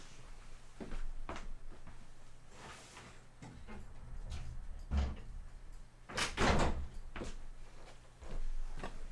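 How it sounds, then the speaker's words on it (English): A door pushed shut indoors, with several sharp knocks and thuds near the microphone, the loudest around the middle and a cluster of clunks later, over a low steady room hum. "let me make sure I shut my door"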